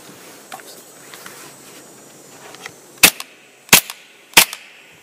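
A KWA KMP9 airsoft gun fires three sharp, loud semi-auto shots about two-thirds of a second apart after a quiet stretch with faint handling clicks.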